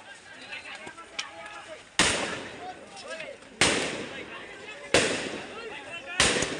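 Gunshots crack out during a street clash in Mirpur-10, Dhaka, four sharp loud reports spaced roughly a second and a half apart, each echoing off the surroundings, with agitated voices in the background.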